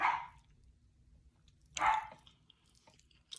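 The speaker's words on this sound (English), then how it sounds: "Sorry about my dog in the back." A dog barks twice in the background, one short bark at the start and another about two seconds later, both sharp but somewhat distant in an otherwise quiet room.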